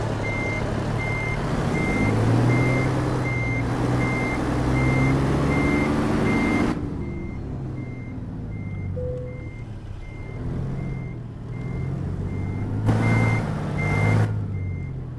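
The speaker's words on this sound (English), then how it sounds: "Backing in blind over here" A truck in American Truck Simulator backs in blind, its reversing alarm beeping in a steady, evenly spaced series over a loud diesel rumble that quiets midway, with a short hiss near the end.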